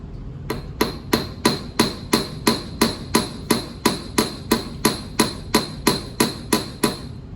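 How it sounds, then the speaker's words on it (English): A hammer strikes a flush rivet into countersunk sheet metal, about sixteen sharp metallic blows in a steady, even rhythm, loud and close with a brief ring after each hit. "Notice I'm hammering a little harder."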